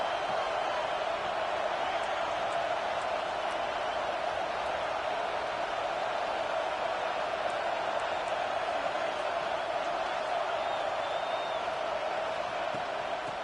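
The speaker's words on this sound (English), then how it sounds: "it's as if this crowd senses they can help them get a huge stop" Crowd noise from a college football video game stadium, a continuous broadband roar of fans at a constant moderate level for the whole stretch, with no spoken voices over it.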